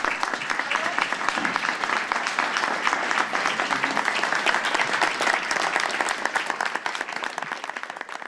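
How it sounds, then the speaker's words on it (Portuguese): Journalists break into sustained applause for Pope Francis, a dense, even patter of many hands clapping at steady volume throughout, with a faint murmur of voices underneath. "arrancando palmas dos jornalistas"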